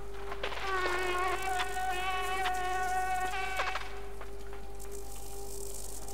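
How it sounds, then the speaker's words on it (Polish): A mosquito or fly buzzes in the video game Limbo, a steady whining drone that wavers in pitch for several seconds, then fades out. "a cóż to jest za komarzysko, owadek, mucha, cholera wie co to jest"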